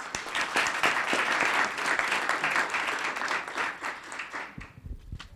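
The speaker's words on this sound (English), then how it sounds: "And one more round of applause." Applause rises from the audience at a town council meeting: many hands clap in a steady, moderately loud wash that thins out and trails off into scattered claps near the end.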